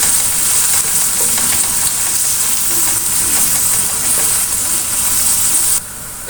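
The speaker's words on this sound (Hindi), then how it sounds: "अब हम इसमें प्याज डाल के इसको अच्छी तरह से हम भून लेंगे" Finely chopped onions frying in a pan, a loud, steady close sizzle and hiss that carries on unbroken before dropping off abruptly near the end.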